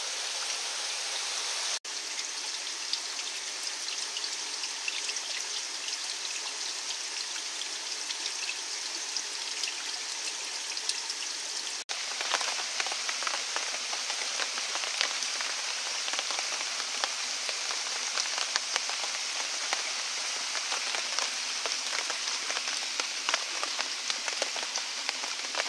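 Steady rain falling on a bushcraft bivouac in the woods, a dense, even patter with scattered drops tapping close by, continuous throughout with no talking.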